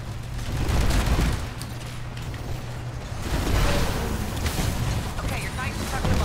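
Sustained gunfire from a Titanfall match, dense bursts and rumbling booms that swell and ease over several seconds, with players talking over the shooting.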